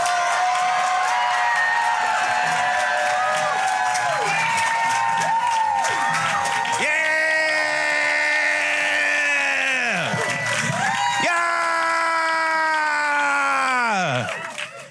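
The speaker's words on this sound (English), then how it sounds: "Keep clapping. Keep clapping." Comedy club audience clapping and cheering loudly and continuously, with whoops over sustained applause while a host's amplified voice talks over it, fading out at the very end.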